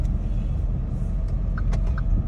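Cars passing on a road nearby make a steady low rumble and roadway hiss, with a few brief brighter swells as vehicles go by.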